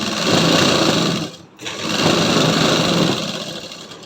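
A sewing machine runs loudly and close, putting long stitches along a salwar pocket, a steady whirring hum that stops briefly midway and then starts again.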